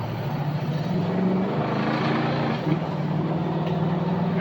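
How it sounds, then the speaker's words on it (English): Steady engine drone from a truck with its back tire spinning out, a continuous loud rumble with a brief swell partway through, no talk over it. "And I just spun the hell out of the back tire"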